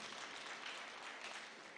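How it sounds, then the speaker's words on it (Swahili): A church congregation clapping for arriving members of parliament, a continuous, somewhat distant patter of many hands throughout the brief moment. "Wapigeni makofi wanapokuja"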